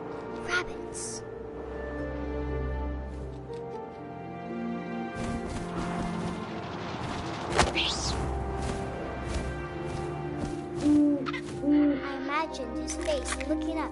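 Soft owl hoots from the video game What Remains of Edith Finch sit within a wind-filled ambience, followed by a sudden rush and crash of effects and a few brief clipped tones near the end.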